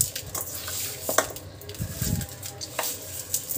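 Mutton pieces mixed by hand with coarse salt and turmeric in a metal bowl for marinating, giving soft squelches and scattered clinks and scrapes against the vessel, close up.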